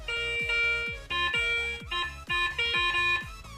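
A Garrett Euro Ace metal detector gives a series of low, buzzing tones over an iron shell fragment, each sweep producing a short droning burst with a rising pitch, repeated steadily and fairly loud.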